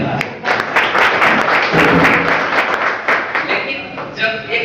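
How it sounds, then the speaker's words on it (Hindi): A crowd at a leadership development program in Hiranpur, Pakur, Jharkhand breaks into loud, sustained applause, many hands clapping densely, swelling and easing slightly toward the end. "इसके लिए एक बार जोरदार तालियां।"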